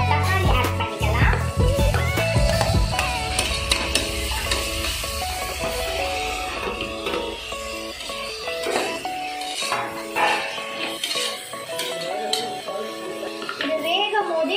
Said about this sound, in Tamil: இது நல்லா பச்சை வாசனை போகிற வரைக்கும் நம்ம நல்லா கிண்டி விட்டுக்கணும்.